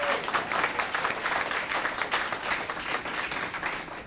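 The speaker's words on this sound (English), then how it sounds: "So give Shan a round of applause." Steady applause from an audience at a public service award ceremony, a dense, even patter of clapping hands held at moderate loudness throughout with no voices over it.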